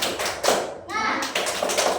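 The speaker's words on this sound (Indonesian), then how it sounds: "sekarang kita tepuk semangat dulu yuk" Children perform a rhythmic spirit clap in a classroom, sharp hand claps and taps in quick bursts mixed with young voices chanting along.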